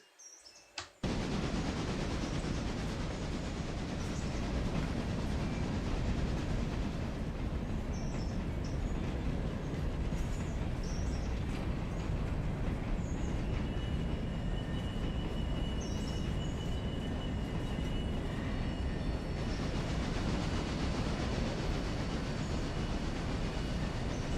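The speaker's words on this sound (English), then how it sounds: "This train I run from Alarka to Alarka Junction." Passenger train in a railroad simulator game on the North Red Marble & Western Tourist Railroad, running steadily on rails with a continuous loud rumble of wheels and wagons, faint squeals and clicks, and no talk.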